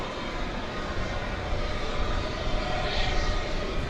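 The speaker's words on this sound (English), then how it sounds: "It's an Airbus A319-100." An American Eagle Airbus A319-100 arriving from Bentonville, Arkansas, lands at DFW Airport in the evening, its engines making a steady, broad roar that swells slightly toward the end.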